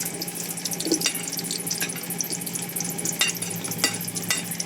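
Garlic sizzles and crackles in a hot pan with occasional stirring scrapes, a soft steady frying hiss close by with no talk.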